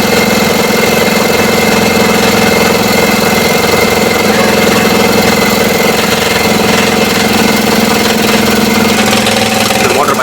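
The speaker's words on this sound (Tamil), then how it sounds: "மோட்டர் ஆன் பண்ணுங்கள் மோட்டர் பார்த்திங்கன்னா நல்லா என்ன ஆகிறது பார்த்தீங்கன்னா அதுவாகவே கொஞ்சம் கொஞ்சமாக அப்படியே ஸ்லோ ஆகிடும்" Borewell compressor motor with a fault runs steadily with a loud continuous drone and hum for the whole stretch, its tone holding with only a slight change near the end rather than a clear slowdown.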